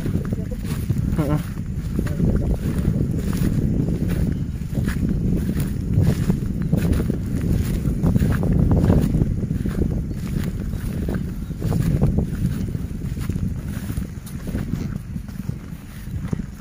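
Strong wind gusts across an outdoor field, a loud rushing roar with buffeting against the microphone that swells and eases over the whole stretch, while people talk now and then.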